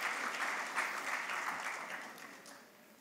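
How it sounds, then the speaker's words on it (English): A conference audience at TiEcon Mumbai claps for two speakers being introduced, a steady wash of many hands at moderate distance that slowly fades toward the end. "Big round of applause for Ranu and Sujit."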